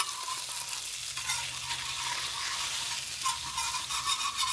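Salmon and shrimp fry on a recteq Matador griddle, a steady bright sizzle running the whole time with small crackling bursts near the end and no voices.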